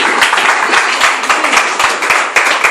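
A church congregation at a French Sunday worship service claps together in a steady, loud rhythm, with faint voices mixed in beneath the applause.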